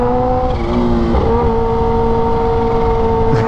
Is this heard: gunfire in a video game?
no